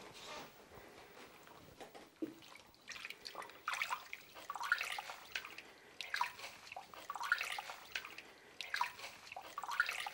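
Raw sheep wool being washed by hand in warm water, with soft dripping and splashing that comes and goes in close, irregular bursts.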